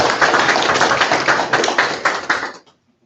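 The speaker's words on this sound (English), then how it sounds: "let's give him a round of applause" An audience at a city council meeting gives a round of applause, dense close-up clapping for about two and a half seconds that stops abruptly into near silence.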